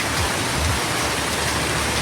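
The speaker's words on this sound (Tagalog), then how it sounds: "Pero mahina po yung ulan ngayon dito." Steady patter of light rain falling, an even hiss of drops with no voices.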